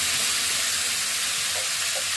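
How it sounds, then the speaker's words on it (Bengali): Marinated chicken frying in hot oil in a home kitchen pan, giving an even, continuous sizzling hiss that stays close and steady for the whole stretch, with no talking. "এবার আমি চিকেনটা মেখে একবারে তেলে ছেড়ে দিলাম।"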